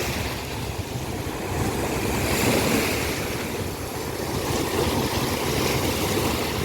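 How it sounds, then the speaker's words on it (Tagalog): Strong sea waves at Xylofagou beach in Cyprus wash in and out in loud, continuous surges with wind buffeting the microphone, and no voices heard. "Lakas ng wave na ngayon eh."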